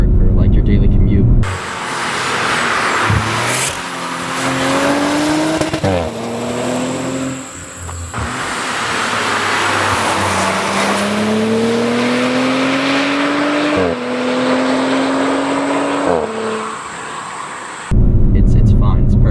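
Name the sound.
car exhaust with valves, driving in comfort mode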